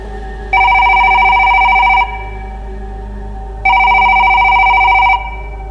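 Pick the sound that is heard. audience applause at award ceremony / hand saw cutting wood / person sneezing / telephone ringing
telephone ringing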